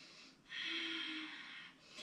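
A single audible exhale during a yoga breathing practice, a soft, breathy rush of air lasting just over a second, close and quiet.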